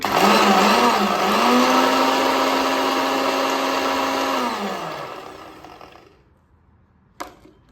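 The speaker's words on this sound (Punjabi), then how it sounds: "ਇਹ ਸਾਰਾ ਮਟੀਰੀਅਲ ਆਪਾਂ ਹੁਣ ਪੀਸਨੇ ਆ ਪੀਸ ਕੇ ਰੱਖ ਲੈਨੇ ਆ" An electric grinder whirs loudly and steadily as it grinds almonds, fennel and black pepper, its motor pitch holding for several seconds before winding down to silence, followed by a brief click.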